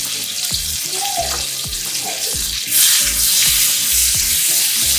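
Whole sage leaves fry in butter and oil in a pan with a steady, close sizzle, while utensils tap and scrape against the pan in an irregular rhythm and the crackle grows louder partway through.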